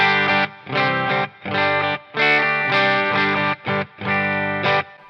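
Electric guitar played through a Quilter Toneblock 202 on the vintage Q setting, loud strummed chords in short rhythmic bursts separated by brief pauses, with rich harmonic ring.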